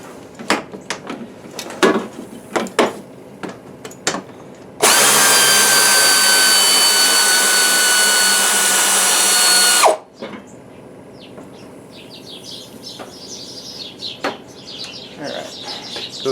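An air ratchet working on the power steering of a 1997 Dodge Ram runs in one continuous loud burst of about five seconds, with scattered clanks of tools and parts before and after it.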